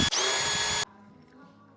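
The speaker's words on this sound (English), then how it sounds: "I'll know where I have to drill my holes" A handheld electric drill whirs loudly and steadily for under a second, then cuts off abruptly, leaving quiet room tone and a small click at the end.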